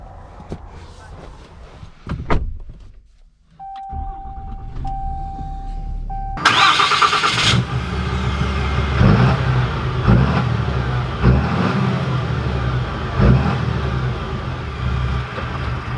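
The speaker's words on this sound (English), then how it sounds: "let's take this limited 3500 dually out," A 2020 Ram 3500 Limited dually pickup starts up with a loud broadband crank and catch after a steady chime, then settles into a rumbling idle and pulls away, its engine drone continuing steadily at close range.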